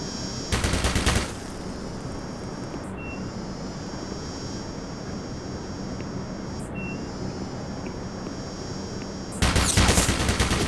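In the video game Black Mesa, turret gunfire rattles in two loud rapid-fire bursts, one at the start and one near the end, separated by a steady mechanical drone with faint clicks.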